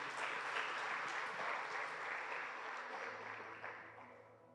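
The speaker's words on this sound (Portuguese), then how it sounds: "vamos aplaudir os nossos atores aqui" A church audience applauds actors with a full burst of clapping that stays dense and loud, then gradually thins and fades toward the end.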